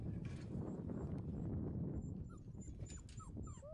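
Puppies whimper and yip in short, high, wavering cries over a steady rumbling background, several small voices overlapping close by.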